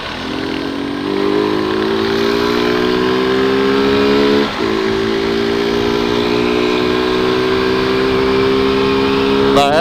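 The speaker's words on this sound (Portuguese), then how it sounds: "Na reta você tira o sarro, né, cuzão?" Motorcycle accelerating hard along a straight road, a loud rising engine note close by with a short dip mid-way before climbing again.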